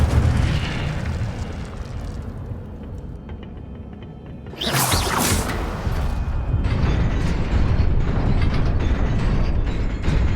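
Incendio fire spell cast in the video game Hogwarts Legacy, a sudden loud fiery burst that erupts midway over an ongoing rumbling game soundscape, then settles into sustained crackling noise.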